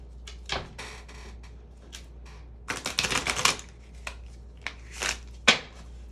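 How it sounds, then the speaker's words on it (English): Tarot cards shuffled by hand in bursts of crisp riffling and tapping, with a dense flurry in the middle and sharp slaps near the end, close and fairly quiet. "I might low-key be a tiny bit addicted to shuffling my cards this way."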